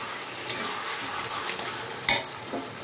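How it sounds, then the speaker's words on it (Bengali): Vegetable stalks with salt, turmeric and a little sugar stirred in a pan, a soft steady sizzle with a few light scrapes and taps from the spoon, close and with no talk. "এদিক ওদিক নাড়তে চাড়তে দেখো ডাঁটা দিয়ে জল বাড়াই আসতেছে"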